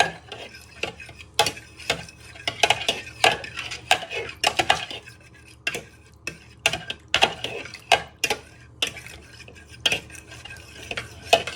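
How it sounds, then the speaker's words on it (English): A spoon stirs beef stock cubes into a sausage, bacon and bean casserole in a pot, with repeated close, sharp clinks and scrapes against the metal at an uneven rhythm, loud and without voices. "So we're just stirring this till it dissolves."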